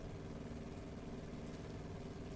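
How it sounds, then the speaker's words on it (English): A CAS J3 Cub's small engine idles in Microsoft Flight Simulator, a steady low rumble that holds evenly throughout and stays faint and distant, with no voices over it. "The sounds aren't bad for a little engine."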